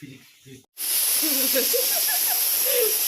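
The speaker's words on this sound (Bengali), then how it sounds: "সিটি পড়েছে প্রেসার কুকারের" A pressure cooker whistle blasts out in a home kitchen, a loud, sustained steam hiss that cuts in abruptly after brief talk and holds steady, with faint voices underneath.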